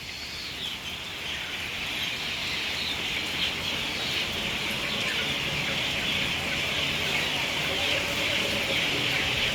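A flock of chickens crowds in for feed, bird calls and clucks forming a dense, steady bed of sound with a bright high chorus throughout, no clear single voice standing out.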